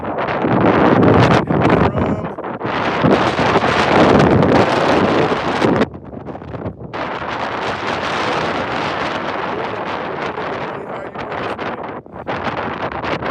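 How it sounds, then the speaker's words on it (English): Blustery morning wind on the East Coast buffets the microphone, loud rushing gusts that rise and fall with brief lulls, close and continuous. "I don't know if you guys can hear it in the audio, but it is blustery here on the East Coast this morning."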